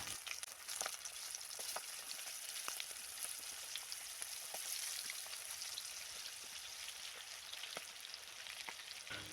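Breadcrumb-coated prawns fry in hot oil with a steady, dense sizzle and scattered small pops, continuous and moderately quiet throughout, with no voices.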